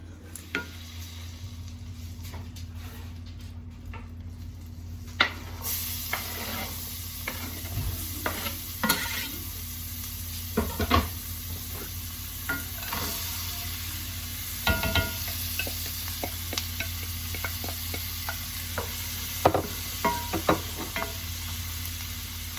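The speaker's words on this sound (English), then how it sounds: "I'm gonna let this get hot, and then I'm gonna add the fresh vegetables, the carrot, celery, and onion" Carrot, celery and onion fry in butter and olive oil for vegetable beef soup. A continuous sizzle runs throughout, broken by frequent clattering stirs of a utensil against the pot.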